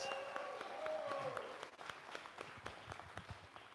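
Applause from the audience at an award ceremony for a 2019 Corvette grand prize, a steady wash of clapping with scattered sharp claps that tapers slightly toward the end, with faint background tones.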